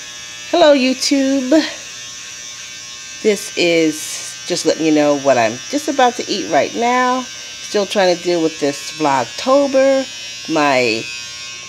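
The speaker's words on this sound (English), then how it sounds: "That sound you hear is my husband using that electric shaver thingy to shave his face and his head." An electric shaver buzzes steadily as a man shaves his face and head, a continuous mid-distance whir running beneath someone talking close by throughout.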